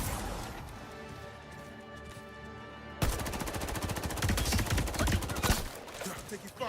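Rapid automatic gunfire in the video game Highguard, which erupts suddenly partway through and continues as dense, loud bursts after a quieter stretch of game sounds.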